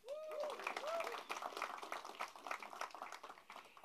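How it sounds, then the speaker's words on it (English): Audience applause at a concert introduction for musicians, moderate clapping from a crowd, with a voice and whistle-like tones over the start, settling into steady, softer clapping. "I think each name should have a clap."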